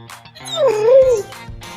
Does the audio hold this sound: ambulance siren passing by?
no